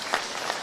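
Brief burst of audience applause at a humorous Islamic religious lecture by preacher KH Anwar Zahid, steady and moderately loud clapping from a crowd lasting under a second.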